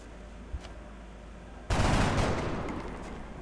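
A soldier fires a weapon in the strategy game XCOM: Long War: after a quiet stretch with a soft tap, a sudden loud burst of gunfire erupts and rolls on, slowly fading over the next couple of seconds.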